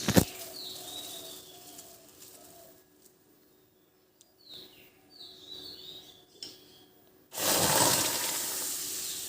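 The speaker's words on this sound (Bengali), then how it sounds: "আমটা ঢেলে দেবো।" Mango pulp is poured into a wok in a thick, rushing burst near the end, after a quiet stretch where birds chirp faintly in the background.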